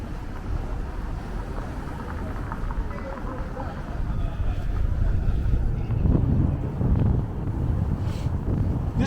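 Outdoor wind buffets the microphone with a steady, loud, low rumbling roar that swells slightly partway through and continues throughout.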